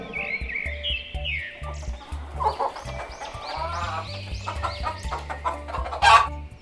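Hens cluck in short repeated bursts over cheerful background music, with a brief louder squawk near the end.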